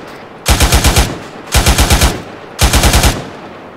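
Three bursts of rapid automatic gunfire in a video game, each volley about half a second of five or six quick, loud shots, with short pauses between volleys.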